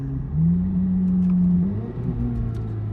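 A C8 Corvette Z06 engine revs as the driver downshifts, a rising mechanical whine that holds, then dips and climbs again, close and steady for a few seconds.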